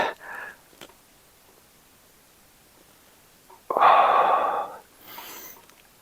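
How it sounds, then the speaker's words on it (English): Slow, deep breathing during a hip mobility stretch: a soft breath at the start, then one long, fairly loud exhale through the middle and a quieter breath after it, with no talking. "Nice big deep breaths"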